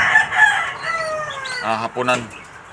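Golden Boy roosters crowing in a backyard coop, long rising-and-falling calls that overlap one another at close range, followed near the end by a couple of shorter, choppier crows.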